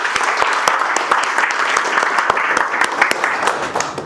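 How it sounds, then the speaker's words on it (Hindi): Mobile-repair class audience clapping hard for their families: loud, continuous hand-clapping from a room of students, with sharp individual claps cracking through the dense wash throughout. "एक बार अपनी फैमिली के लिए जोरदार ताली बजाओ"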